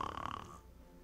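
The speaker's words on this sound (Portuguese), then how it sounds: "Ele roncou tão alto que toda a floresta escutou." A giant's snore in a children's story, a short, rough, rasping inhaled snort that buzzes for about half a second and then fades into quiet breathy noise, fairly soft.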